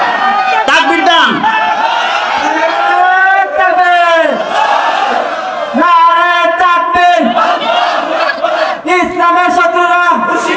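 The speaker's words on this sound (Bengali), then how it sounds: "কে কে চায় হাত তুলে তাকবীর দেন, তাকবীর দেন" A large crowd at an Islamic sermon loudly shouts the takbir in unison, answering the preacher in several rising chanted bursts that swell and fall, with a voice leading between them.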